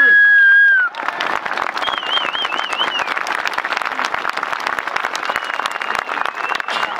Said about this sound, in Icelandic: Við skulum klappa fyrir þessari sendingu sem lyftir okkur upp.